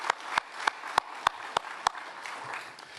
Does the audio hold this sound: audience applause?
yes